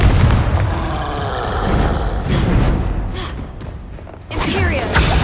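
A Confringo spell explosion in the video game Hogwarts Legacy produces loud, dense booming blasts and rumble, with a brief dip before a second sharp burst near the end.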